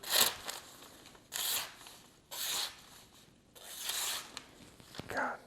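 A Dalstrong 8.5 inch kiritsuke kitchen knife slices through paper in a cut test, making about five short, crisp swishing rasps separated by brief pauses in a quiet room.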